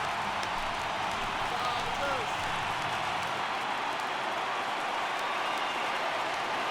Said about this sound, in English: listen to this crowd now. They are really into this.